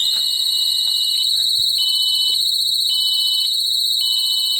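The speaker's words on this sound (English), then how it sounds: "there is going to be a loud alarm that goes on throughout the boat" A houseboat's engine start warning alarm: a loud, piercing electronic tone sounds continuously, with a faint rhythmic beeping pulse repeating about once a second beneath it.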